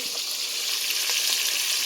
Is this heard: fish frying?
yes